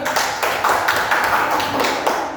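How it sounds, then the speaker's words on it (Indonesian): Students clapping in a classroom after a teaching-practice presentation, a short burst of close, loud rhythmic claps with little else behind it. "Setelah itu tepuk tangan dulu."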